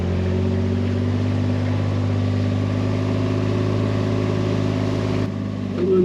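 A vehicle drives slowly through woods on the way to buck logs for a Frick sawmill, its engine humming steadily and loud close by, then easing off near the end.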